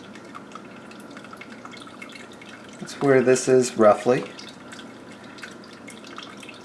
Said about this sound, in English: we slowly pour some water over the top of here